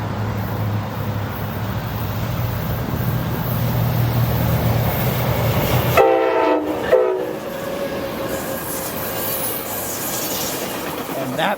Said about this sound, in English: just tries to do a horn show, but ends up not being able to do one and just ends up doing a two-tap